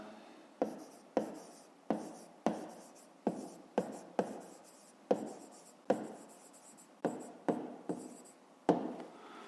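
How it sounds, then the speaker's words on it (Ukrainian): Pen or pencil writing out the answer to a fifth-grade math exercise, heard as a close series of short, sharp strokes and taps in an irregular rhythm, with quiet pauses and no talk. "Пишемо відповідь."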